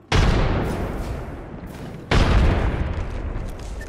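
Two heavy booming blasts from a frag grenade in Apex Legends, each with a sharp onset and a long rumbling decay, about two seconds apart and loud.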